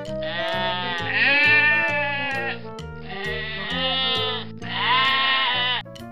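Sheep bleating in long, wavering cries, three drawn-out calls close and loud, layered over steady background music.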